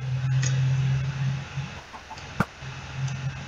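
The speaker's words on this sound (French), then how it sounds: "Il y a un poulet juste en dessous." A chicken in the Minecraft UHC game clucks in short repeated bursts over a steady low hum, with a sharp click near the end, fairly close and moderately loud.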